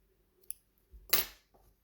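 Scissors cutting strands of yarn on a crocheted granny-square flower: a small snip, a pause, then a louder, longer crisp cut with a faint trailing click, close and quiet with no talk.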